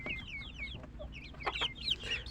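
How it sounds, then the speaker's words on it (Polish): A young Italian-breed cockerel gives soft, close clucks and chirpy calls among other poultry, over a low steady background rumble in a breeding pen. "To jest na przykład kogucik włoski."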